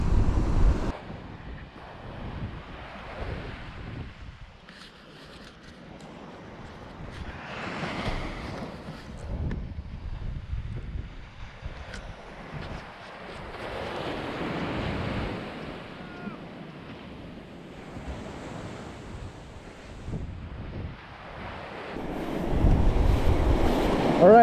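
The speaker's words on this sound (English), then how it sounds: "the waves are kind of bad today" Rough ocean surf rolls and crashes at a fishing shore while steady wind buffets the microphone, the roar swelling and easing continuously for the whole stretch.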